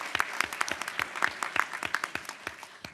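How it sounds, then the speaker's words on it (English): A small audience at a panel discussion claps, producing a sparse, uneven patter of distinct hand claps that carries on steadily for a few seconds in a quiet room. "Round of applause, yes."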